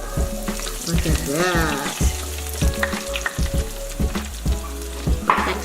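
Basket of vegan fried chicken pieces sizzling loudly in hot oil, a dense continuous crackle with stirring clatter, close by, while a voice speaks briefly over it.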